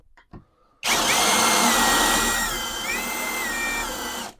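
A cordless ELTOS impact driver spinning a bit through a plain 1.5–2 mm metal plate without a center punch, a loud steady whir starting abruptly after a brief click, with the pitch wavering as the bit bites.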